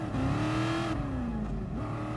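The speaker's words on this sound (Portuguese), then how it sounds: "Hoje especificamente estamos com o AC Cobra com o motor 427" A 1966 AC Cobra with a 427 engine accelerates on the Nordschleife, its engine note rising loud and close, then dipping briefly as it shifts before climbing again.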